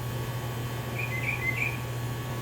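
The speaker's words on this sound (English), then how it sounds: "You can hear the birds." Faint birdsong drifts in from trees near a home, a few brief chirping phrases standing out over a steady low hum, with no one talking.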